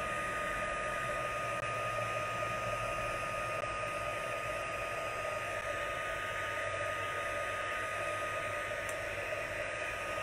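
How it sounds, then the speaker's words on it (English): A craft heat tool blows a faint, steady hiss of hot air with a low whir as it melts embossing powder, holding constant and unbroken. "if you haven't heat embossed, can you see how that powder is melting?"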